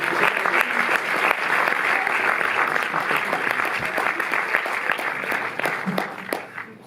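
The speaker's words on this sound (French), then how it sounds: "Régine, on peut l'applaudir." An audience at a Paris cinema screening and discussion applauds, a dense, sustained round of clapping that fills the room, thinning out toward the end as voices begin to surface.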